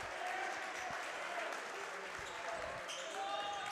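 A crowd at a Moorestown boys high school basketball game applauds and cheers in a steady wash of noise, with occasional ball bounces and a commentator talking over it.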